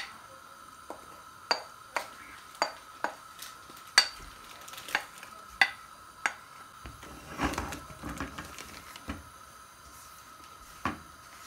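Gram flour (besan) is roasted in ghee in a pan, with a regular series of sharp spatula taps and scrapes against the metal over a faint, low sizzle, growing busier toward the middle.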